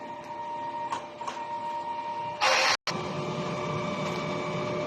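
A DTF printer running a print head cleaning cycle: a steady mechanical hum with tonal whine, a few soft clicks, then a loud burst of pump and motor noise, a brief cut, and the steady hum resuming.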